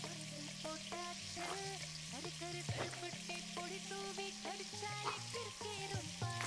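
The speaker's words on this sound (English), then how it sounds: "look at that oil just fucking sizzle" Oil sizzling steadily as takoyaki cooks in a video game, a continuous bright frying hiss layered under game music with recurring tonal notes.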